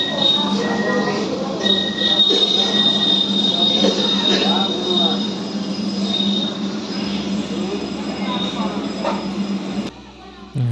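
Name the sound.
AC train at a platform, wheels squealing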